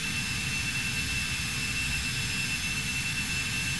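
Jet airplane engine at takeoff roars loudly and steadily throughout, a dense broadband rush with a high whine layered on top and no voices.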